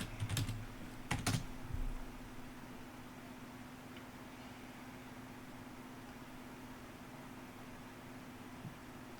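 Computer keyboard typing during a programming lecture on parallel for loops, heard as a few quick close clicks in the first two seconds, then only a steady low electrical hum and room noise.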